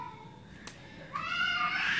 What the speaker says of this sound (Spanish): era ese mismo gato que está aquí